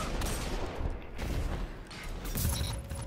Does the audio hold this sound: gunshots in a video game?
yes